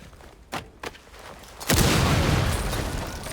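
A breaching charge detonates in Rainbow Six Siege with a sudden heavy boom that rolls into a sustained rumble of debris, preceded by a couple of sharp clicks.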